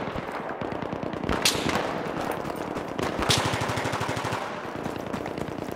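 Sustained automatic gunfire from a Battlefield video game battle, rapid rattling bursts with a couple of sharp louder shots, continuous and fairly close throughout.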